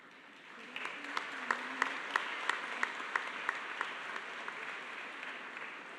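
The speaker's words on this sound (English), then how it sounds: "let's give one round of applause" Applause from a commencement audience rises and holds as a steady patter of clapping in a large hall, with a few distinct loud claps standing out near the front over a softer, spread-out crowd.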